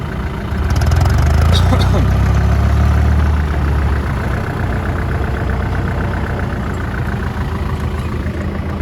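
A tractor engine rumbles close by, revving louder at first then settling into a steady idle, with faint talk mixed in.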